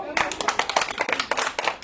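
Students in a classroom clap their hands in a quick, irregular burst of sharp claps, close and fairly loud, lasting under two seconds.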